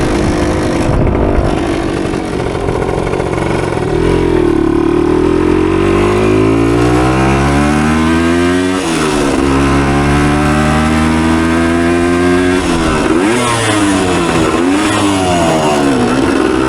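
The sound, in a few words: 1976 Kawasaki KE100 motorcycle engine revving during a ride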